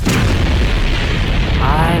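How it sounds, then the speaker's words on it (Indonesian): A loud, deep boom rolls out like a car exploding in a film, with a roar that fades over a couple of seconds. "Meledak tuh mobil"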